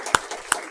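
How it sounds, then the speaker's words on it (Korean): A church congregation clapping in welcome during a Sunday morning service, heard as just two sharp, separated claps over a quiet room. "우리 신자매님 우리 환영의 박수 한번 쳐주시면 감사하겠습니다."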